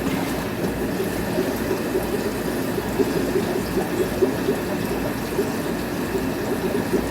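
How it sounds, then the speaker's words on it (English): Aquarium water drains steadily through a 3/4 inch hose during a water change at an aquascape, a continuous close gurgling rush of flowing water with small bubbling pulses and no talking. "it's just going to drain down until it stops draining"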